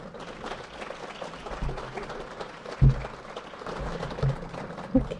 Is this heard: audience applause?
yes